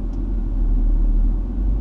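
A Range Rover engine rumbles low and steady while the vehicle backs up, a continuous close drone with no voices over it.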